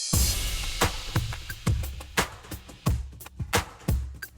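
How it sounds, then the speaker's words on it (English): A simple produced drum groove of claps and snares over deep kick thumps, punchy hits repeating in a steady looping pattern, loud and dry with no voices. "All together, the drum groove sounds like this."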